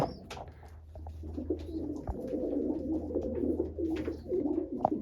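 Pigeons kept for sale coo steadily and close by, a low rolling warble layered from several birds, with a few higher chirps and rustles over a constant low hum.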